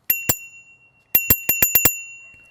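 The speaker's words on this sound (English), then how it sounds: "I think the tricycle bell is louder than the horn on the Evercross" A tricycle bell fitted to a Varla Eagle One electric scooter dings sharply, first two quick rings, then a pause and a rapid burst of six close, bright rings.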